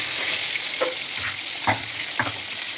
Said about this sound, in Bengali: এই যে আমি পটলগুলো ভেজে নেবো।